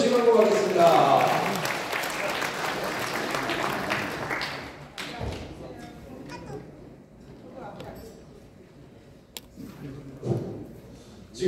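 Audience applause in a hotel ballroom gathering, loud clapping filling the first few seconds then fading, followed by quieter room noise, scattered taps and murmurs.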